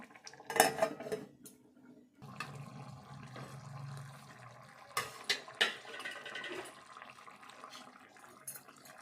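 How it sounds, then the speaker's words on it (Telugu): A metal lid goes onto a pot of simmering drumstick and tomato curry, with a sharp clank early on, then softer bubbling and a couple more clinks of metal against the pot. "కొద్దిసేపు మూత పెట్టి ఉడకనిద్దాము."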